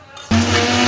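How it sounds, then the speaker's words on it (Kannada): A kitchen mixer grinder blending soaked tamarind starts abruptly after a brief quiet moment, then holds a loud, steady, whining motor hum with a buzzing edge. "ಇದನ್ನು ಮಿಕ್ಸಿ ಮಾಡ್ಕೊಂಬಿಡೋಣ."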